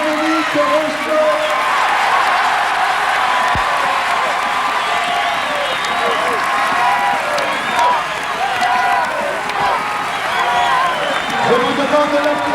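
A large stadium crowd of about 12,000 spectators applauds and cheers Dominique Rocheteau at his jubilee match, with loud, sustained clapping, scattered whoops and a voice carrying over the roar.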